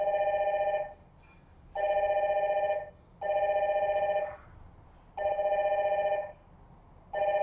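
A phone rings through a DINSTAR IP PBX call, giving repeated electronic double-tone rings of about a second each with short gaps between, loud and steady with no talking.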